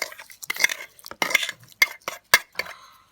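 A utensil stirs salt and spices together in a dish, a series of quick scraping clinks and taps in irregular bursts, close and fairly loud with no talk.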